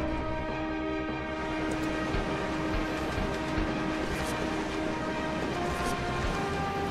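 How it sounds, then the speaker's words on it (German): A passing train in the video game Resident Evil Zero gives a steady, loud rumble and clatter of rolling rail cars, with sustained horn-like tones running through the whole stretch and no talk. "Dann ist der Zug schon vorbei."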